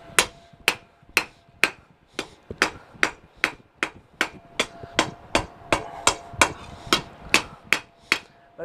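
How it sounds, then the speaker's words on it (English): A hammer strikes a hot steel knife blade in a steady, evenly spaced rhythm of about twenty sharp ringing blows, close and loud. "you just want to make sure that it's staying straight on the bottom and everything's flat as you can get it when you're hammering."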